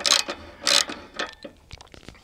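Ratchet socket wrench worked on an antenna mounting clamp during installation of a sector antenna, giving a few close, loud metallic clicking bursts followed by softer scattered clicks and taps.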